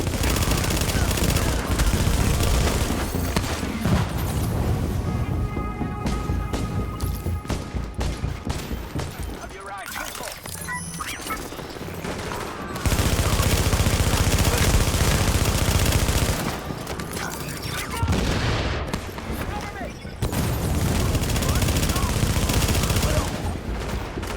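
Sustained automatic gunfire in a cutscene from The Division, loud dense bursts of rapid shots rolling on and off with brief lulls over a backdrop of battle noise.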